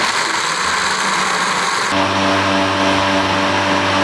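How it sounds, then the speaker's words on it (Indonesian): Kitchen blender grinding cooled fried peanuts with boiled water, starting about halfway in with a loud steady motor whine and churning hum after an initial stretch of background noise. "Kita mau blender kacang dan kacangnya udah didinginin dulu ya dari goreng tadi."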